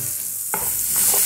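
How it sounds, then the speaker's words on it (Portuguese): Food fries and sizzles steadily in a pan as a utensil stirs it, with a couple of scraping strokes over the continuous loud hiss of cooking oil; no voices. "E aí ele vai cozinhando e fritando ao mesmo tempo."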